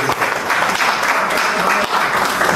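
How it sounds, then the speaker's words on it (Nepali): A crowd applauds loudly and steadily for an award recipient at a general assembly, dense clapping filling the whole stretch without a break. "उहाँको सम्मानको लागि जोरदार तालीले सम्मान गरिदिनु"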